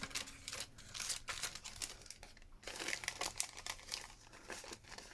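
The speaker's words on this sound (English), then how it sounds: "because once I've got it open I can take that cellophane out" Cellophane is pulled from an opened CD cover, giving quiet, close crinkling and crackling in bursts with brief pauses.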